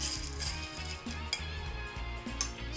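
A Zombie cocktail made with Kraken Black Spiced Rum is stirred with a spoon in a glass. The clinking and scraping is rhythmic, with a few brighter chinks, and stays close and steady with no talking.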